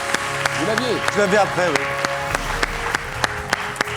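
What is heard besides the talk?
studio audience applause on a quiz show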